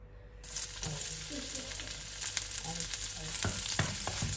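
Garlic sautéing in a hot pan for shrimp and bok choy, a steady close sizzle with intermittent scrapes and clinks of a utensil stirring, starting abruptly after a brief quiet moment.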